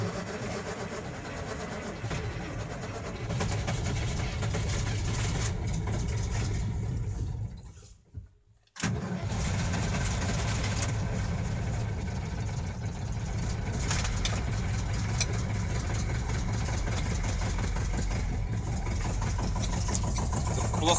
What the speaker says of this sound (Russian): Вот сейчас попробую завести